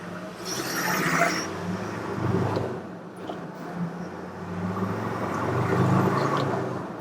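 A Land Rover Defender engine revs up as the vehicle pulls away, a steady droning rumble heard from inside that rises and swells across the run, with no talking.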